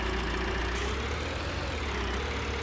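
A tractor engine idling in Farming Simulator 19, a steady low diesel drone with constant rumble throughout, no talk over it.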